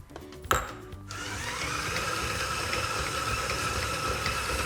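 An electric stand mixer whirs steadily as it creams a cup of butter with a cup of sugar, a continuous close motor drone and beater rattle starting after a brief sharp knock near the start, with no talking.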